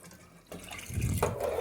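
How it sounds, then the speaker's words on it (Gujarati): Water poured from a pot into a cooking vessel holding spiced vegetables for a Kathiyawadi tawo undhiyu, a short splashing gush that starts after a quiet moment and swells. "હવે નાખી દઈશું આપણે એક લોટો પાણી"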